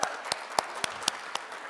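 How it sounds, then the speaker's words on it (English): Scattered applause from a small keynote audience at a morning session, a handful of distinct claps spaced out over a low room hum, moderately faint. "Let's give them a round of applause."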